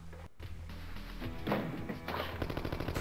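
Rapid bursts of gunfire from the Sega CD game Wirehead, crackling in dense volleys against a busy background of game sound effects.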